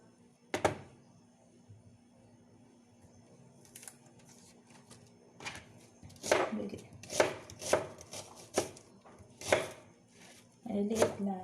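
A knife chops an onion on a cutting board at home. Crisp, close strikes start sparse, then come in a quicker run of sharp chops, ending in a short flurry.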